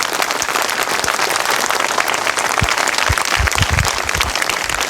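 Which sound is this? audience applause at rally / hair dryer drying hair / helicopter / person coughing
audience applause at rally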